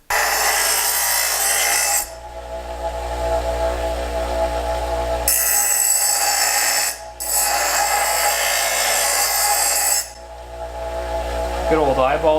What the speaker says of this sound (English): That's the grinder that came from my house.